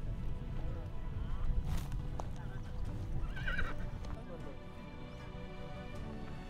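Horses carry Mongolian eagle hunters at an eagle festival, with a whinny and some hoof movement over steady outdoor noise and people talking nearby.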